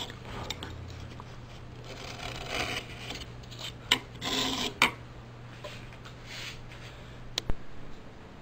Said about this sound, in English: A little bit of sanding will get the bottom of that bowl nice and smooth